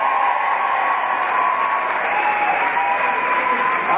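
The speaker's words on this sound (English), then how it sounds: "Give Mary a big round of applause." An audience at a lip-sync fundraiser night gives steady, loud applause that fills the whole stretch with dense clapping and no break.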